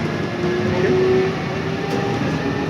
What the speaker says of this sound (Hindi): अभी क्या ट्रेन हो गया, मेट्रो।